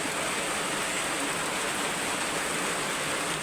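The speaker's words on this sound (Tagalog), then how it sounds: "wala gihapon ng nihupa ang ulan" Heavy rain pours down in Davao Oriental in a dense, constant hiss, steady and unbroken, like a downpour drumming on a roof nearby.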